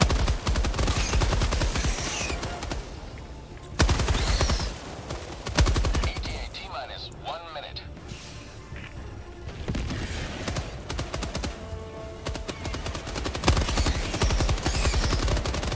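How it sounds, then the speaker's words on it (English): Machine gun fire in the video game Helldivers 2, loud rapid bursts separated by short pauses, mixed with game effects and a voice talking over it. "the machine gun, you definitely need to, like, sit still and do, like, burst fire, otherwise it gets real inaccurate real quick"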